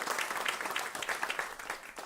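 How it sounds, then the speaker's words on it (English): Audience applause rings out for event partners at a climate action gathering held at WNYC, a steady dense wash of clapping that holds throughout. "Please give those partners a big round of applause."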